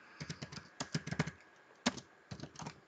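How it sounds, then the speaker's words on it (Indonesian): Computer keyboard keys tapped out in short quick bursts while entering a network command on a Linux Ubuntu server, close, crisp clicks in clusters separated by brief pauses, no voices. "saudara bisa ketik aja ifconfig min a"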